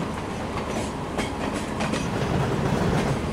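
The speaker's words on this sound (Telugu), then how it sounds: "ఇప్పుడు ట్రైన్ మళ్ళీ వెనక్కి వెళ్ళాలన్నమాట" Train rolling along the track in the Trainz Simulator game on an Indian route, making a steady rumble with soft clickety-clack of the wheels under it and no talking.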